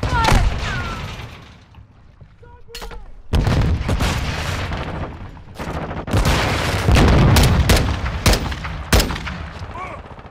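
Call of Duty: Modern Warfare II combat with repeated sharp blasts and booms, a stun grenade among them, breaking through continuous gunfire and voices in a loud, dense battle mix.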